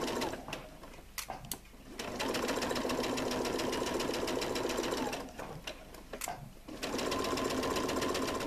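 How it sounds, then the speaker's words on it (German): A sewing machine runs a plain straight stitch on fabric for a stuffed dragon-in-egg toy, a close, steady mechanical whirring that stops briefly twice before resuming, with no talking. "näht dann mit einem ganz normalen Geradstich einmal"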